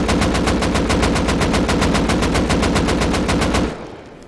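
Rapid automatic gunfire from a weapon without a muzzle brake in Rust, fired at close range in a fast, evenly spaced burst of loud shots before cutting off and fading into a short tail.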